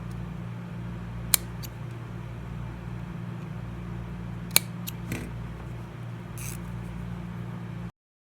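Scissors cutting fabric for a sewn balaclava ski mask: a few faint, sparse snips and clicks over a steady low room hum.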